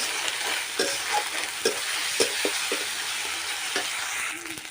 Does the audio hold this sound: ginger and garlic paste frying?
yes